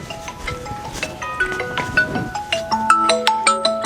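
A bright electronic ringtone plays a quick melody of beeping notes, repeating in a steady rhythm and growing louder toward the end.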